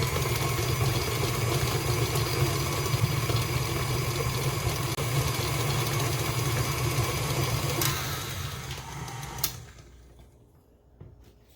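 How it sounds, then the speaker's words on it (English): Cream cheese and powdered sugar being beaten in a mixing bowl by an electric mixer, a steady loud motor whir that runs for several seconds, then winds down and stops near the end. "you want to mix your cream cheese and sugar until you get a nice smooth consistency"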